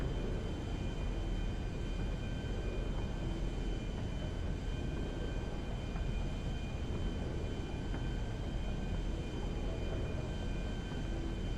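A propeller airplane in the GTA Online game flies toward a heist drop zone, giving a steady, loud engine drone with a low rumble and faint tonal hum, unbroken throughout.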